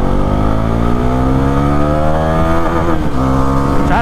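A Bajaj Pulsar NS400Z motorcycle in sport mode accelerates hard, its engine note rising loud and close through the revs with a brief dip as it shifts.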